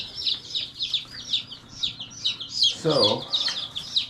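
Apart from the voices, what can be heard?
young chickens clucking and crowing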